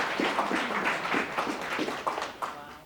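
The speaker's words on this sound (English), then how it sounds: "A round of applause for our volunteers" A high school assembly audience gives a round of applause for volunteers, a short burst of moderately loud, uneven clapping that thins out toward the end.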